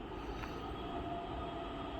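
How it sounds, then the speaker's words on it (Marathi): A Pune Metro train passes with a steady, even rumble of wheels on rails, heard at a distance and fairly faint, with no voices. "हे आपलं पुणे मेट्रोचं सुंदर अशा दृश्य"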